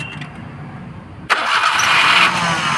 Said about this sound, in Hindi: अब हम गाड़ी के सिलम मरवाते हैं